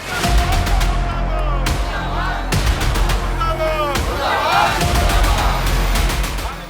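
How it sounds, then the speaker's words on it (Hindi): A crowd of protesting teachers in Vaishali, Bihar chants slogans against education official K.K. Pathak, loud and sustained, voices massed together with sharp bangs and shouts throughout. "प्रदर्शन कर रहे लोग बिहार में शिक्षा विभाग के अपर मुख्य सचिव के पाठक के खिलाफ नारे लगा रहे हैं"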